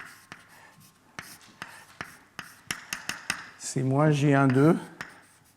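Chalk or marker strokes on a board while equations are written during a French physics lecture, with sharp taps and scratchy strokes in an irregular rhythm, close by, alongside the lecturer's speech.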